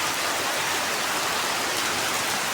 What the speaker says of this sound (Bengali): মুসুলধারে বৃষ্টি হচ্ছে নন স্টপ